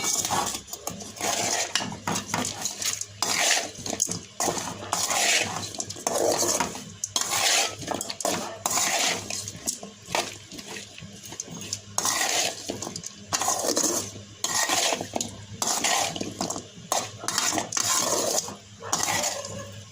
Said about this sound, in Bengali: এখন এটাকে ভালোভাবে মাখিয়ে দেব